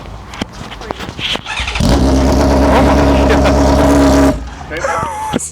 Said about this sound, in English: Straight piped exhaust right there.